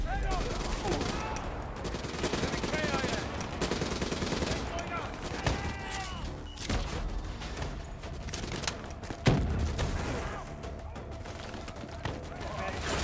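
Steady gunfire from squad weapons in Call of Duty: Black Ops III rattles in repeated bursts at middling loudness, with voices talking throughout and a sharper blast near the end.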